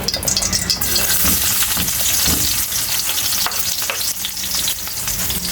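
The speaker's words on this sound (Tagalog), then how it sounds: "mainit yung mantika natin. Maglagay na tayo ng bawang." Garlic dropped into hot oil in a pot for binagoongan bangus crackles in a loud, dense, continuous sizzle close by, with occasional stirring scrapes.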